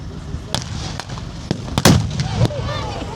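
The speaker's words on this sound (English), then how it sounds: "That is a very large explosion." Battlefield blasts from a tank battle display, with a series of sharp explosions and thuds scattered across the moment, one larger boom standing out among them while people talk in the background.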